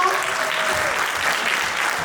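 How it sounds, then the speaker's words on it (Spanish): An audience claps for the day's winner, a dense steady applause throughout, fairly loud and close, with no talking over it. "Vamos a aplaudirlo."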